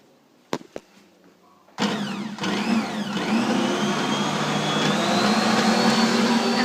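An electric mixer whirs through a denture mold mixture with powdered sugar, starting after a couple of soft knocks, then a loud steady motorized drone with a rising whine that holds throughout.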